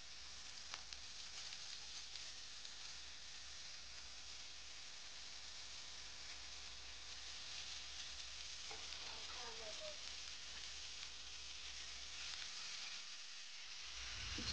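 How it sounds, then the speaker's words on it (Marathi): Onion and garlic roast on a griddle set over a wood-fired clay stove, giving a steady, even sizzle and hiss that carries on throughout, with no voices. "मी ते कांदा भाजायला टाकला आहे तव्यावरती"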